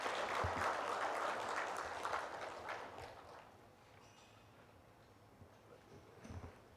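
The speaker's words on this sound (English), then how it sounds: "Can we have a huge round of applause for our moderator and panelists?" Audience at a panel discussion applauds for a moderator and panelists, faint and distant, the clapping swelling briefly and then dwindling to a few scattered claps.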